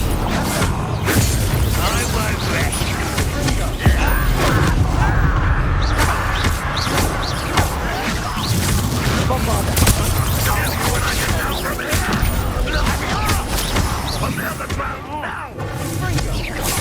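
Bombarda spell blasts in Hogwarts Legacy battle, dense crashing explosions and mechanical clatter running continuously under excited talk.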